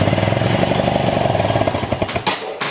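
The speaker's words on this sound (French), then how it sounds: "J'ai l'impression qu'il y a un petit bruit de ferraille." A Honda CRF 110 dirt bike engine running close up with a steady rapid throb and a faint metallic rattle, easing off and sputtering briefly near the end.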